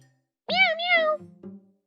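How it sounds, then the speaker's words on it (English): A single drawn-out cat meow rising and falling, followed by a short chirpy mew, from the video game Love Spell. "Meow, meow. Meow,"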